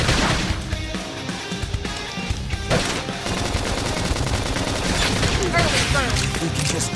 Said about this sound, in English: We can just topple them with gunfire.